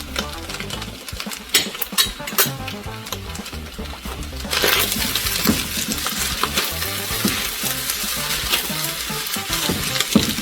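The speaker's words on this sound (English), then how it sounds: "So I'll let this fry on high heat for like 5 minutes, and then the fried rice is ready." Fried rice with scallions fries on high heat in a dense, crackling sizzle, with a spatula clattering and scraping in irregular strokes, and the sizzle grows louder and fuller halfway through.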